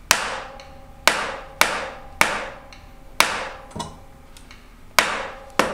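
Bicycle bottom bracket bearings being pressed into their cups with sharp metallic hammer-like knocks, about six strong strikes spaced roughly a second apart with a few lighter taps between, close and loud with no talking.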